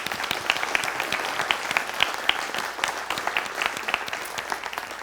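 A crowd applauds steadily, dense clapping filling the room at an even level for several seconds without letting up.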